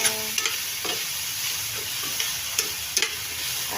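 Chopped vegetables and green hotdog sauté in a hot pan, giving a constant close sizzle broken by several sharp scrapes and knocks of a stirring utensil against the pan, with no one speaking.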